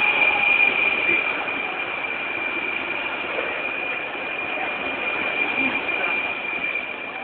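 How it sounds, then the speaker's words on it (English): A light rail train approaches on Washington Street with a steady rumble and a thin, high electric whine, moderately loud and continuous throughout. "seeing this train coming in from the other way."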